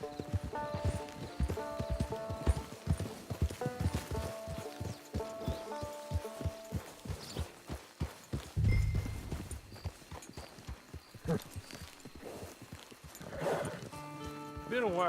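Horse hooves clop rhythmically and a horse whinnies in Red Dead Redemption 2 online, near and moderately loud beneath game music and characters talking.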